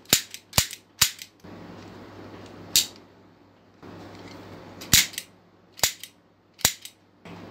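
A plastic Python 357 revolver-style lighter gun made of ABS plastic clicks sharply as its trigger is pulled, giving about seven loud, close snaps in an uneven rhythm with brief hissy pauses between some of them.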